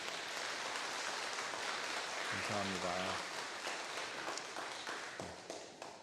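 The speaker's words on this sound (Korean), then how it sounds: "자리에서 잠시 일어나시면 우리 박수로 환영하겠습니다." A church congregation claps to welcome a visitor, a dense, steady rain-like patter that fills the room throughout, with a short spoken thanks partway through.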